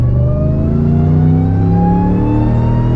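A Hellcat-swapped Dodge RAM 1500 pulling a trailer revs hard, a loud steady engine roar that climbs smoothly in pitch toward redline with a whining drone, heard from close inside the cab with no talking.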